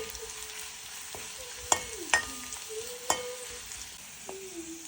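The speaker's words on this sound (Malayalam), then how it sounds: "പിന്നീട് കടുക് വറക്കും. അതിലേക്ക് കുറച്ച് ഉലുവ, കടുക്," Mustard seeds and fenugreek fry in hot oil for a pineapple pulissery, a steady close sizzle punctuated by a few sharp pops and crackles.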